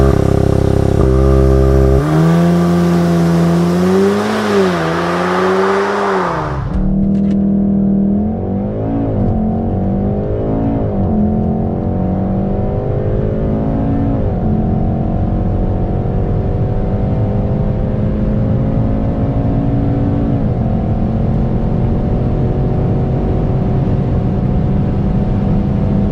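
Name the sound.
VW Golf 7.5 R Performance accelerating hard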